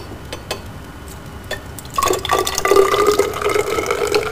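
Liquid from a stirred lab buffer, an acetate solution, poured into a measuring cylinder, starting with a few light drips and then becoming a steady, splashy pour that stays close and clear to the end.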